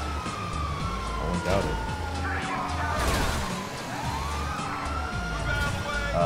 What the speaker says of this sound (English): There's like a row of five police cars following us.